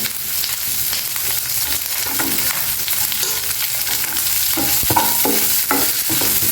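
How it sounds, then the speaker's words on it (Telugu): Chopped onions and green chillies with curry leaves frying in an oiled pan for an aloo samosa filling, giving a steady, fairly loud sizzle with scraping stirs throughout and no talking. "మనం తరిగి పెట్టుకున్న ఉల్లిపాయలు పచ్చిమిర్చి వేసేయండి"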